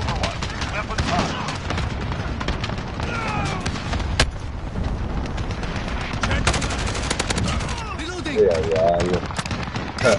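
Rapid weapon fire rattles through a video game battle, dense overlapping bursts of gunshots and booms with game voice cues mixed in throughout.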